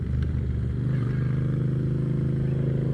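Moto Guzzi V7 motorcycle with a bikini fairing riding along a road, a steady low throbbing engine note under wind, constant and close with no gear changes.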